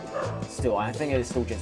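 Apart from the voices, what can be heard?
dog barking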